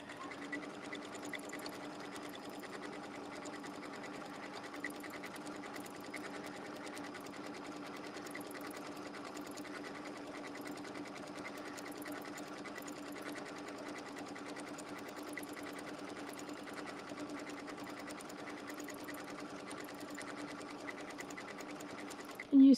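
A sewing machine runs steadily and close by, stitching fabric in a continuous even whir for the whole stretch, with no pauses and a faint click at the very end.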